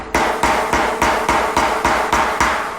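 Seven sharp, evenly spaced metallic hammer blows ring out close by in a steady rhythm as a hammer flattens a winch line, each blow decaying quickly before the next.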